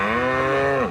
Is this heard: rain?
no